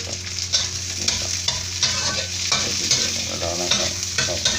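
Bell peppers and fried shrimp are stir-fried in a pan with garlic and butter: a steady close sizzle broken by repeated clattering spatula scrapes, with no talking.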